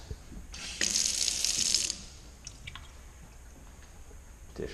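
Water running from a new kitchen faucet in a freshly built house, a bright hissing burst lasting about a second before shutting off, leaving faint drips and room noise.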